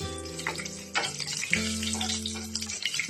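Grated coconut fries in a pan with a steady, close sizzle, joined by a few louder scrapes and clatters as it settles into the hot fat.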